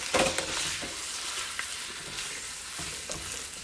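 Lo mein with shredded cabbage stir-frying in a hot pan, a loud continuous sizzle with scraping, tossing strokes close by.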